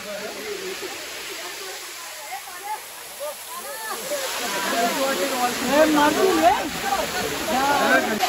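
Steady rushing water hiss from a waterfall at Malanggad falling from high above, growing louder partway through, with voices chattering over it.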